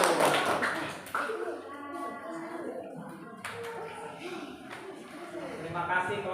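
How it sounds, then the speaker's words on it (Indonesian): Students clap for a group that has just performed a fan dance in a classroom, a short burst of applause at the start that soon fades under a speaking voice. "Tepuk tangan untuk kelompok 3."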